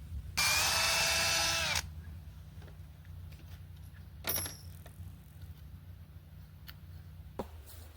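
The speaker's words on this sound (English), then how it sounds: "I'm going to put 2 screws per each side." A power drill drives a screw into wooden floor framing, one loud sustained whir lasting about a second and a half near the start, followed by quiet room tone and a few faint clicks.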